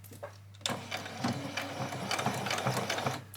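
A sewing machine runs a back stitch along an apron, a steady fast mechanical whirr that starts abruptly after a brief quiet moment and continues evenly at close range.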